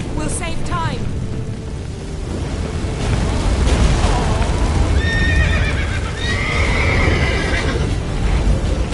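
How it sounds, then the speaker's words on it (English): A horse whinnies loudly amid galloping hooves, with heavy rumbling and booming effects rolling underneath in a scene from The Witcher game. "Grab the horse!"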